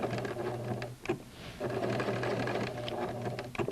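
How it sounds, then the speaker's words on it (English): A sewing machine stitches a fabric casing in a steady mechanical whir with a buzzing hum, briefly stopping near the middle before running on again. "Stop about 1 inch from where you started and lock in your stitching."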